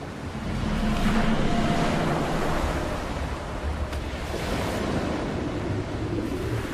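Ocean waves and surf in the Gulf of California wash steadily and loudly throughout, a broad continuous roar mixed with wind buffeting the microphone, without voices.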